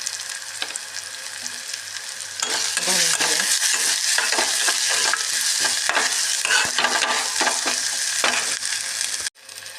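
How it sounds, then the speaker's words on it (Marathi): Tomato goes in with well-browned onion in hot oil for a pea curry, and the sizzle jumps louder, followed by repeated close scraping and stirring strokes over a steady frying hiss. "कांदा भाजलाय चांगला आता टोमॅटो घालते"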